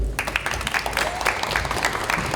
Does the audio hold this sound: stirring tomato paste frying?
no